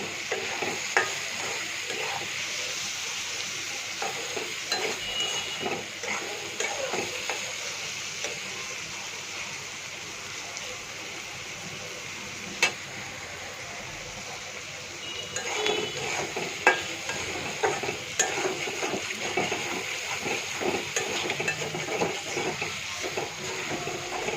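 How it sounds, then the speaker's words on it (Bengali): Onions frying in oil with a pinch of salt added, a soft continuous sizzle broken by scrapes and clinks of a spatula against the pan, louder toward the end, with no one speaking. "পেঁয়াজ ভাজার সময় যদি আপনি একটু লবণ দিয়ে দেন তাহলে পেঁয়াজটা তাড়াতাড়ি ভাজা হবে"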